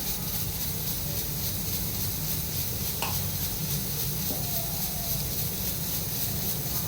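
Whole spices frying in hot oil in a pot for a rustic village-style mutton dish, a steady broad sizzle running throughout with a couple of faint clicks partway through, no voices.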